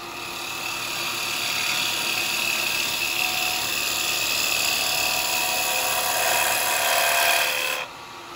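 A chisel cuts wet eucalyptus spinning on a wood lathe, giving a continuous, fairly loud hissing shave with a faint high whine that holds steady for several seconds before dropping off abruptly near the end.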